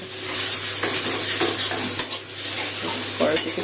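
Ridge gourd peel paste, nearly dry, fries in a wok with a continuous hiss as it is stirred, a few sharper scrapes and taps standing out near the end.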